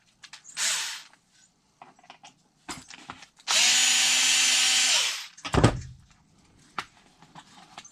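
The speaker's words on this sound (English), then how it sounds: "2 screws to pop out the battery tray." Small screws are driven out of an RC car's battery tray with a power driver, several short whirring bursts and one longer sustained spin, interspersed with light clicks and handling of the plastic parts, close up.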